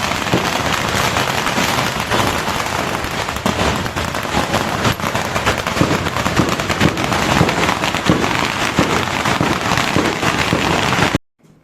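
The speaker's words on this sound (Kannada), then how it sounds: "ಇವತ್ತಿನ ದಿನ ಇಲ್ಲಿ ಪಟಾಕಿಯನ್ನು ತುಂಬ" Firecrackers burst nonstop outside a Gurudwara during Guru Nanak Jayanti celebrations: a loud, dense, continuous crackle of rapid pops that runs for about eleven seconds, then cuts off abruptly.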